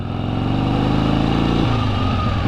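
A 1973 Harley-Davidson Sportster motorcycle engine runs steadily and loud up close, with a low rumbling drone whose pitch drops partway through as the revs fall back.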